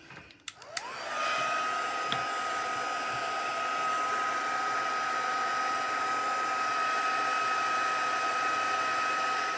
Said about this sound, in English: then we're going to heat it up with the heat tool.